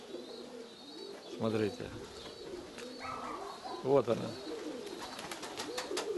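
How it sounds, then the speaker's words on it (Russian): A pigeon coos at a training loft in two distinct throaty, warbling bursts a few seconds apart, close by, while a person talks quietly around them. "А вот голубя, смотрите."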